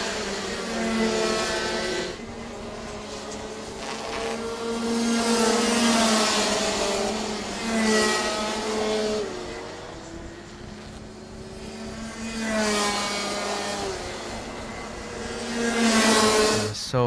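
Race cars lapping a circuit at an RMC Thailand 2025 race: loud, buzzing engine whines rise and fall in pitch as several cars pass one after another, with overlapping passes and no commentary heard.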